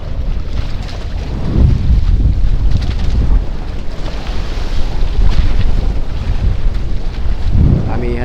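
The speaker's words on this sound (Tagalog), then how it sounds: "Amihan na talaga guys, hindi na mapipigilan ng amihan." Strong amihan northeast monsoon wind buffets a boat at sea in the Pacific, a loud roaring rush of gusts and wind noise on the microphone, swelling and easing, with water sounds underneath.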